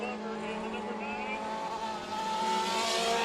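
Race cars circling a dirt track at Kern County Raceway during heat races, a continuous engine drone and whine that swells slightly toward the end.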